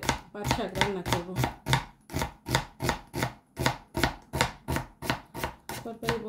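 Vegetables for curry, with jute leaves, shrimp and eggplant in the meal, are chopped on a board in a rapid steady rhythm of about a dozen close, sharp knife strikes, with no talking.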